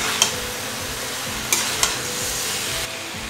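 Raw onion greens fry and stir with tempering spices in a hot pan, giving a continuous close sizzle broken by a few sharp scrapes of the spoon against the pan, with no voices.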